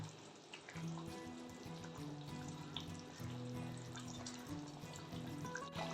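A pot of fish gravy simmers and boils, producing a steady, low, continuous bubbling and burbling that stays close and even throughout, with no speech.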